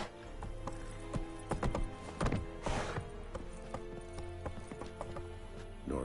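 Horse hooves clip-clop at a gallop in the Witcher 3 video game, a rhythmic run of moderate, close hoofbeats with a brief snort or whinny mixed in and game ambience beneath.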